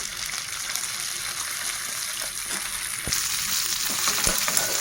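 Urad dal, cumin seeds, curry leaves, crushed garlic and ripe green chillies frying in hot oil, a steady close sizzle that grows louder partway through, with a few soft stirring knocks and no talk.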